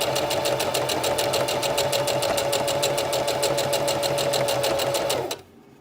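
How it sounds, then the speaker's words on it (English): A sewing machine stitches steadily down the vertical side of a stretchy-fabric face mask, a fast, even mechanical rattle close up that stops abruptly near the end. "We're going to sew all the way down this vertical side."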